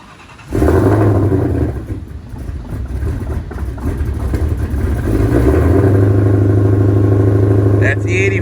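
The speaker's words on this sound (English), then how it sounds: "My GT500 won't start." A Ford Mustang GT500 that won't start gives a loud, close mechanical churn with uneven pulsing, which settles into a steady, droning engine note while a person talks over it.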